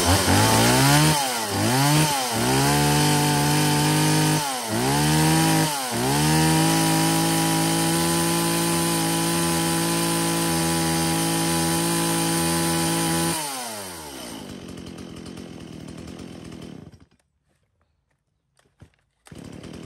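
A used Japanese chainsaw idles, then is revved up and down in several quick bursts before holding a steady high whine for several seconds, winding down and stopping into near silence.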